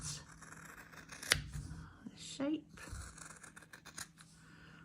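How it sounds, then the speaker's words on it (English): Scissors snip through quilt fabric to cut out a shape, giving a sharp close cut followed by softer slicing and rustling, while someone talks quietly over it. "I like to use scissors. And I'm just going to cut"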